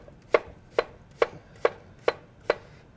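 A kitchen knife cuts through fresh peeled local apples on a board, six crisp, evenly spaced chops at a steady rhythm, close and distinct, with quiet between strokes.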